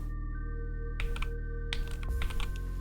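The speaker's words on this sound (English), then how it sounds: "Typewriter" Typewriter sound effect in an Unreal Engine game: a few quick clusters of sharp mechanical key clicks, close and clear over a steady low electronic hum.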